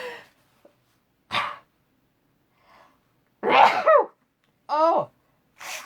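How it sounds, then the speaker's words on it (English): Two sharp human sneezes, the first short and the second a louder burst followed by a quick breathy gasp, with faint brief vocal sounds and quiet gaps between them in a quiet indoor room. "Uh-oh, sneeze."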